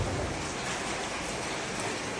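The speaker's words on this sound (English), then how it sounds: "Huge storm here in Bali right now. Big rainstorm, lots of wind." Heavy rainstorm in Bali with strong wind, a dense, unbroken hiss of pouring rain that stays loud and steady throughout, with no voices.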